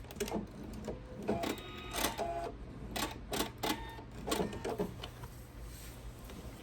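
Home sewing machine stitching fabric for a Noel Christmas tree skirt, sewing toward a point in short bursts, each run of motor whir separated by brief pauses, close and moderately loud over a steady low hum.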